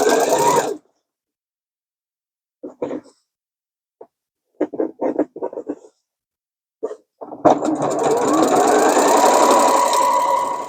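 A sewing machine stitches the lining of a denim tote made from upcycled jeans. Short stop-start bursts come first, then a longer sustained run close by, with quiet gaps between the early bursts.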